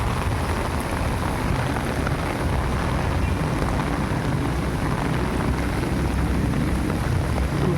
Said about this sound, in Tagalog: Lakas ng ulan na. Lakas ng ulan guys.